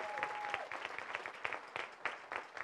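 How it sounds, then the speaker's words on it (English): An audience at a 2019 corporate bootcamp training session gives a round of applause, dense continuous clapping that runs the whole length with a few sharper claps rising out of it. "let's give a collective round of applause for all your leaders"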